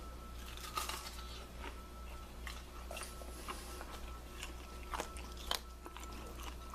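Biting and chewing crunchy, gluten-free fried andouille sausage on a stick, close-up crisp crunches recurring irregularly over a steady low background hum.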